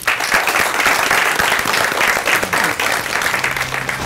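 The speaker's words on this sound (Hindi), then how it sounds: "आइए नाज़रीन, जोरदार तालियों से इस्तकबाल करते हैं" A studio audience on a televised talk show gives loud, sustained applause welcoming a guest, a dense crackle of many clapping hands filling the room throughout.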